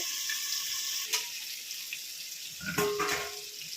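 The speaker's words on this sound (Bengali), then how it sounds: "আমি মাছটাকে হালকাভাবে ভেজে নেব।" Singhi fish frying lightly in hot oil, a continuous bright sizzle, close and moderately loud, broken by a couple of short knocks and rustles from the pan.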